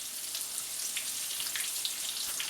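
Chicken for chicken parmesan sizzles and browns in a frying pan, a faint, steady hiss dotted with soft crackles and pops, heard alone without talk.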